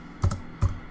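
A few slow, separate keystrokes on a computer keyboard, typed with two fingers, landing close and crisp in an uneven rhythm.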